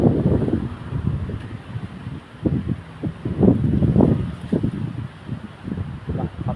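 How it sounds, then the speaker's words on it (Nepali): Strong wind gusts outdoors beneath clouded skies near trees, rumbling and buffeting close to the microphone in uneven surges throughout. "ल खतरा हावा चलिरहेछ यहाँ चाहिँ।"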